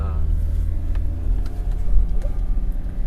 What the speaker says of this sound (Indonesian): Karena ada mobil depan.